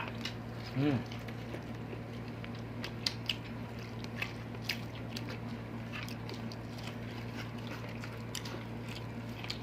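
Close, soft crunching and biting sounds of someone eating sweet corn, with a brief vocal hum near the start over a steady low background hum.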